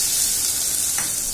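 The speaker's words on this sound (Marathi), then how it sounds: "आता हा डाळीला द्यायचा आहे आपल्याला तडका" Hot tadka hits cooked dal in a home kitchen, giving a bright, close, continuous sizzle with a brief sharper burst near the end and no talking.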